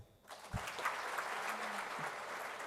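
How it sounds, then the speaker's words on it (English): University audience at an achievers' awards event claps in a sustained, even wash of applause, moderately close, after a brief quiet start. "You can clap louder."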